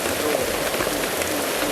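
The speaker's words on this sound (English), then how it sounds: "It started to rain." Rain patters steadily on leaves, a dense continuous hiss of drops close by with no voices.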